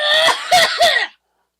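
A person gives a burst of three quick, harsh coughs up close, each cut off sharply, then the clip falls silent.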